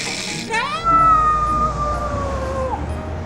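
A voice imitates a radiator heating up, gliding up into a long, wavering, siren-like whine that holds and then drops away, heard close and alone.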